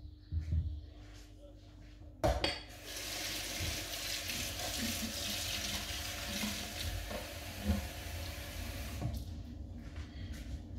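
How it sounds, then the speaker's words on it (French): Lukewarm water is poured into Moroccan stuffed bread dough, a steady wet pouring and splashing that runs for several seconds at moderate volume, with a sharp knock near the start. "Donc, je vais rajouter de l'eau tiède."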